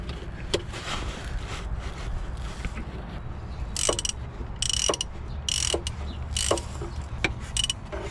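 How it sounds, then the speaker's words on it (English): Ratcheting clicks from a wrench tightening alternator bolts on a VW 1.9 SDI engine, short bursts of fast metallic ticking repeated several times, close and clear. "we need to turn the bolts to fasten the bolts"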